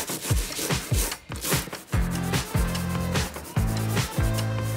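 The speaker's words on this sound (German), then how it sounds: "Neue Woche, neuer Versuch, die Tapetenreste zu entfernen. Dieses Mal mit einer Bürste und aggressivem Schrubben." Stiff brush scrubbed hard and repeatedly over leftover wallpaper on a wall in a 33-year-old motorhome kitchen, giving loud rhythmic rasping strokes, some short and quick, some longer, close up with no talking.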